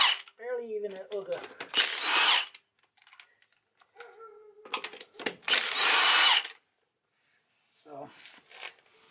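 A power tool turned down to a low setting, working with anti-seize on brakes for a 2010 Ram 2500 Cummins, fires in two short, loud bursts between stretches of speech and light clattering.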